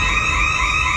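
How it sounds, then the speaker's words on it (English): A home motion-detector alarm sounds loudly and steadily, a continuous high electronic tone held for the whole second with no talk over it. "You step out in any of this area, sets the alarm off immediately."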